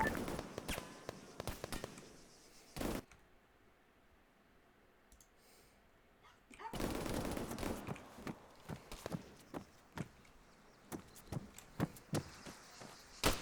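Gunfire from the Arma 3 military shooter game rings out in sharp irregular cracks and clustered bursts at moderate distance, broken by a quiet stretch before the firing resumes.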